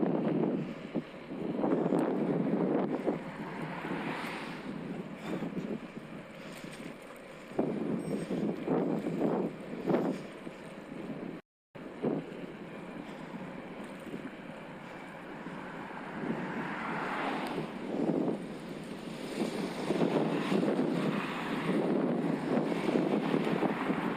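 Wind roaring across the microphone while cycling a hybrid bike into a headwind on a hot evening, a loud continuous buffeting rush with gusty swells and no talking.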